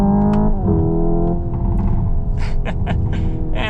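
A synthetic engine drone from a 2025 Hyundai Ioniq 5 N electric car rises in pitch, drops sharply as if shifting gear, then climbs again, with faint clicks layered over it.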